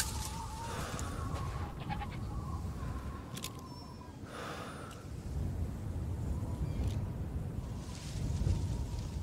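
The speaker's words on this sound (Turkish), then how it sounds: "sen gerçek keçi misin?" A goat bleats in the video game Resident Evil Village, its wavering cries sounding close and clear over a steady rain-like background hiss.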